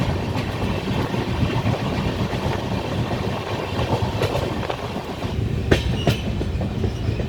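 A long-distance train running from Kochuveli to Rishikesh rolls steadily along the track, with continuous rumbling and rhythmic clickety-clack from the wagons and a few sharper metallic knocks toward the end.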